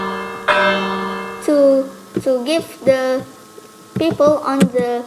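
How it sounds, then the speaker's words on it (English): A fortress alarm bell at a Malacca Sultanate palace lookout rings out loudly, its ringing tone sounding once near the start and sustaining under a voice as he keeps talking close by. "they will ring the bell like this"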